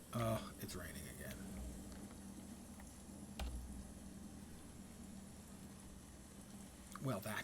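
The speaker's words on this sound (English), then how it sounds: "Oh, it's raining again." Steady rain falling in the video game Nightingale, a soft continuous hiss with low rumble underneath, carrying on evenly with brief louder bumps at the start and end.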